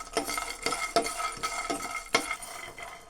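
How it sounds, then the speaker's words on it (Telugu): Peanuts dry-roasting in a pan on a stove, heard as close rattling and scraping strokes as they are stirred, roughly one every half second. "స్టవ్ పైన ఒక పాన్ పెట్టి అందులో ముందు పల్లీలను వేసి వేయించుకోవాలి."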